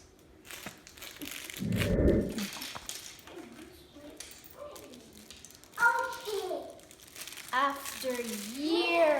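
A plastic bag being struggled open and crinkled by hand without scissors, a burst of loud crackling around the second second, with a voice and other chatter across the rest.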